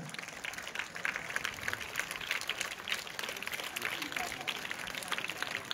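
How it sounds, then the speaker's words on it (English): Steady clapping from a crowd, dense and continuous throughout, with a murmur of voices underneath. "Please give them a huge round of applause"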